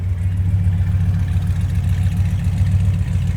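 The 400 engine of a 1966 Plymouth Satellite convertible idles with a steady, deep low rumble, even and continuous, heard up close from behind the car with no talking.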